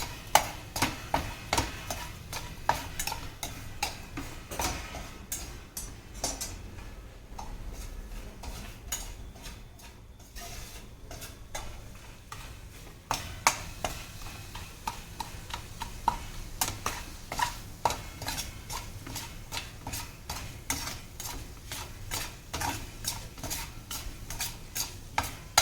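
Mawa peda mixture is stirred and scraped in a pan with a spoon, producing continuous rhythmic scraping and ticking strokes over a soft background sizzle, close and steady, briefly quieter midway before the brisk stirring resumes.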